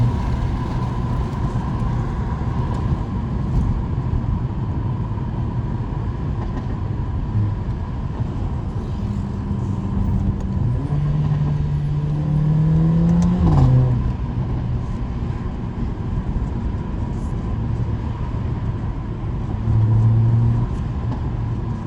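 Exhaust pipes of a Mercedes CLA 45 AMG rumble steadily while driving over a bumpy road with a cold engine, a constant loud drone with a brief rising rev in the middle and no talking.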